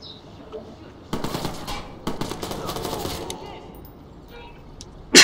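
Automatic gunfire from the video game Watch Dogs comes in two dense bursts of rapid shots, loud and close, trailing off before a sharp final crack.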